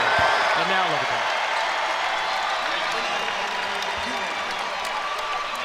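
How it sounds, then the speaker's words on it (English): Steady applause from a large crowd at a basketball game fills the arena, with a broad wash of clapping and some murmuring voices underneath. "You hear the applause for Jackson Shistad, local kid, Oregon,"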